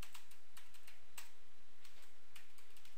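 Computer keyboard being typed on while entering HTML code, a quick irregular patter of light clicks, close and fairly soft, with no talking over it.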